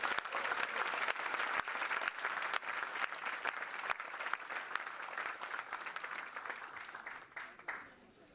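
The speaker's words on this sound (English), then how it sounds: "one more round of applause for the Sherman family" Audience applause at a spring showcase in a community center, sustained clapping with sharp individual claps that fades out near the end.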